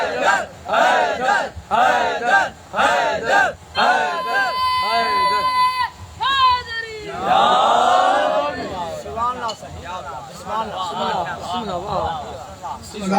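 A crowd at a Muharram-season majlis in the Markazi Imambargah, Rahooja, chants religious slogans in unison, loud rhythmic shouted bursts repeating close by, with a lead voice calling between them.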